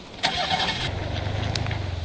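A motor scooter engine cranks and catches, then settles into a close, steady puttering idle with a fast regular pulse, no talk over it.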